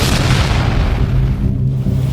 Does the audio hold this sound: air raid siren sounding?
no